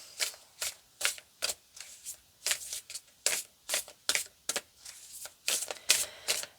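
Tarot cards handled and shuffled close up, a steady series of crisp riffling flicks and taps repeating in quick rhythm, with no talk over them.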